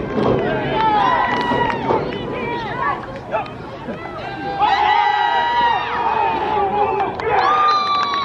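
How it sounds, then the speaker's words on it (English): A crowd at a semi-pro football game at Fontana Field chants in a steady rhythm under loud stadium noise, with shouting voices and cheers rising and falling throughout. "Defense chant from the crowd."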